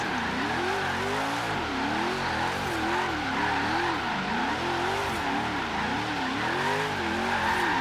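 A drifting car in Forza Horizon 3 held in third gear, its engine rising and falling as the throttle is worked on and off, with a steady tire squeal running underneath throughout.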